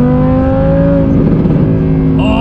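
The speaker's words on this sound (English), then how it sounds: "Or maybe just ignore exhaust noise." An Audi R8 with a 600 bhp build gives a loud, close exhaust rev, a steady droning engine note that swells briefly and then drops as the throttle comes off near the end.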